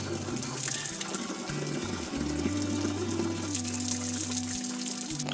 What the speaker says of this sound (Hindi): ये प्राकृतिक स्रोत का पानी है।